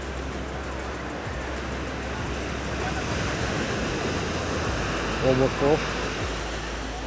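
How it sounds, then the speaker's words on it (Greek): Ocean surf rolls onto a Hawaii beach at sunset, a broad, steady wash of breaking waves with some wind rumble on the microphone, and a person briefly speaks over it near the end. "Και τα κύματα φοβερά."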